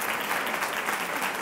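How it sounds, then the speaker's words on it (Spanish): A room of teachers at a talk on teacher wellbeing breaks into applause for the primary school teachers, producing a dense, even burst of clapping that stays loud for the whole moment. "Un aplauso para los de primaria"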